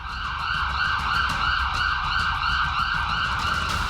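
A white ambulance's siren wails in a steady, repeating rising-and-falling pattern, loud and continuous, with road and engine noise underneath.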